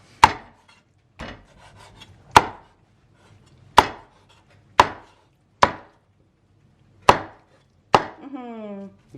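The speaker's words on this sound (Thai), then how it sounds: "เสียงสับ เสียงสับหมู หมูขาหอม หมู สับขาหมู" A cleaver chops through pork leg with about eight heavy, sharp thwacks, spaced roughly a second apart, close up on a wooden board.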